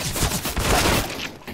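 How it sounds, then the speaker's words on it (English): Rapid gunfire bursts loud and close in a Counter-Strike match, a dense fusillade of overlapping shots that fills the short moment before tailing off. "I shot once only, and I just got shot straight in the face"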